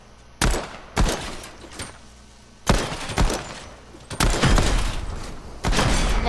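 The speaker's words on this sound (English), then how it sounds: "I'm gonna go practice shooting." Gunshots at shooting practice in a boot camp setting, a run of sharp, loud reports, some single and some in quick bursts, close and dominant without speech.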